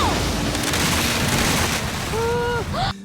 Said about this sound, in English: That's her explosion at the start of the show, which triggers the iceberg.